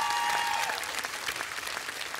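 Audience applause in a television studio during a children's singing show, a dense continuous clapping from a crowd, fairly loud and steady throughout with no talk over it.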